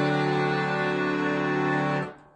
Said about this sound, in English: So there are lots of different sounds that you can get playing the accordion.